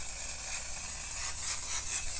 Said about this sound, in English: And then sometimes you have to spray it for ages.